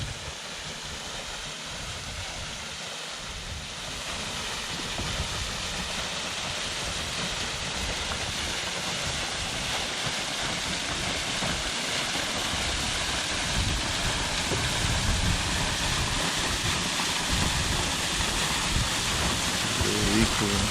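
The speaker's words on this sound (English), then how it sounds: "Found this cool waterfall just coming down." A waterfall pours down near a lakeside canoe campsite in Temagami, a steady broadband rush of falling water that stays loud and constant throughout, with no talking over it.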